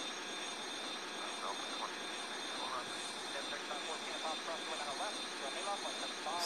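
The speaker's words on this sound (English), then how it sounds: "Soft landing. All right, we're getting the speed brake down." Airliner landing and slowing down in the flight game Airline Commander, a steady broadband engine and wind roar held at an even level throughout, with a voice talking over it.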